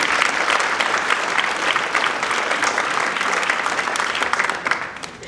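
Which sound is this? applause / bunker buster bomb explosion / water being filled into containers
applause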